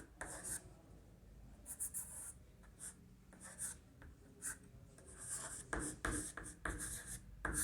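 Chalk or marker strokes scratch across a board while a definition is written out, brisk bursts of scraping with short pauses between words, close and fairly soft, with no talking.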